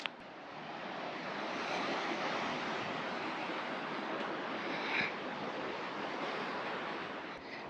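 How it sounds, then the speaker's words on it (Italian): Calm sea waves wash along the Gran Canaria coast in a broad, continuous surf hiss mixed with some wind, steady and moderately loud with one slightly stronger swell near the end, and no one speaking. "Il mare è molto tranquillo, sembra quasi mediterraneo da com'è tranquillo."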